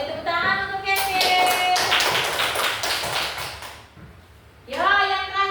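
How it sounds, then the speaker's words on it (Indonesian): Children in a classroom clap for a classmate, a burst of quick overlapping claps for about three seconds, framed by a voice speaking before and after. "tepuk tangan untuk Keke"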